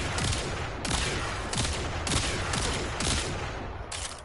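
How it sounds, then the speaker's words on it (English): Kitgun firing in Warframe, repeated bursts of rapid shots in a steady rhythm, fairly faint and dense, with short gaps between volleys and no talk. "so I'm just gonna shoot them to the side."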